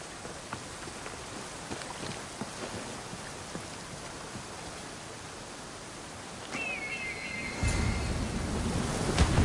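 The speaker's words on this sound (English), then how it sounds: "This is the waterfall." Steady rushing water from a waterfall in the video game Assassin's Creed Odyssey, a continuous broadband roar that swells louder near the end, with no one talking.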